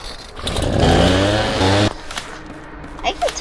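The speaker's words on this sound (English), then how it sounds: "Okay, now I have the chainsaw." A chainsaw revs loudly in the Slendytubbies video game, a sustained buzzing roar for about a second and a half that cuts off abruptly, followed by quieter scattered game sounds.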